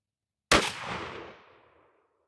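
Mossberg 835 12 gauge shotgun fires a single 3.5-inch Hevi-Shot Hevi-Metal turkey load outdoors, making a sharp, loud blast that booms and rolls away for over a second.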